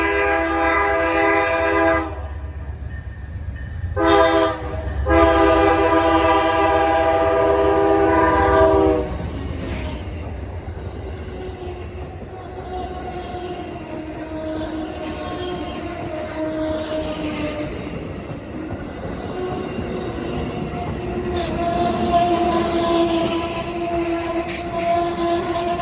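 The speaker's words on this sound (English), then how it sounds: "Nice horn on number 196 engine." CSX line locomotive number 196 sounds a loud multi-tone train horn in several blasts, then rail noise, wheel squeal and rumble continue as the train passes.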